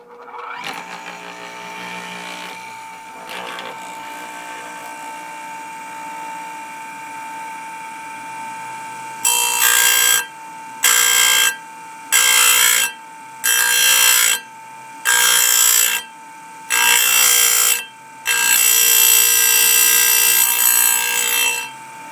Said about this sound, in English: I'm just going to go ahead and I'm going to sharpen a tooth or so for you and show you guys how this works